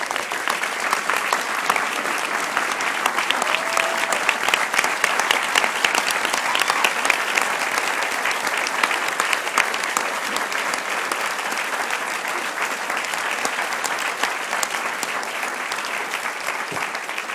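Sustained applause from a large crowd at an outdoor graduation ceremony fills the whole stretch as a dense, even roar of clapping hands.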